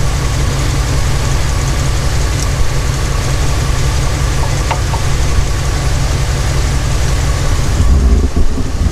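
A 1988 Evinrude 200hp outboard engine on a Stratos fish and ski boat runs steadily at idle, a loud continuous low rumble with a faint tick near the end.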